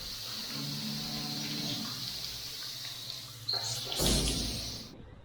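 Water runs steadily from a coin-operated campsite shower, a broad hiss that continues for several seconds before a brief clatter and a louder surge near the end, then cuts off abruptly.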